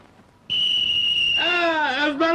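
A loud steady whistle tone cuts in and holds, then a second warbling, wavering whistle blast joins and bends in pitch, close and shrill over a short burst.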